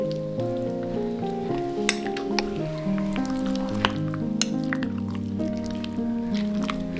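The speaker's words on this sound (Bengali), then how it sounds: "এবার আমি খুব ভালো করে চামচ দিয়ে মাখিয়ে নেব" A spoon works raw chicken with spices and mustard oil, giving steady wet squishing and dripping, sticky sounds close up with occasional light clinks, and no voice over it.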